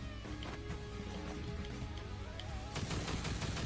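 Continuous rapid video-game shooting with spread-out bullets, dense repeated shots over music-like tones, growing louder and busier toward the end.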